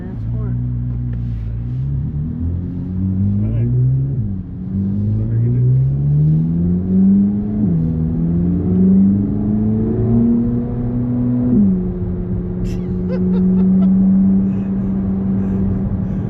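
A Chevrolet Corvette C8 Z06 engine revs in sport mode and climbs through rising pitches, dropping briefly at each gear change before settling into a steady, loud drone up close.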